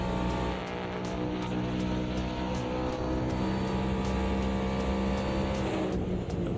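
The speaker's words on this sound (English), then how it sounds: "now we're in the new stock car, and it sounds like an absolute beast" A stock car engine in the racing sim Automobilista 2 roars loudly and steadily throughout, a dense, continuous drone with a strong, sustained engine tone and no talking.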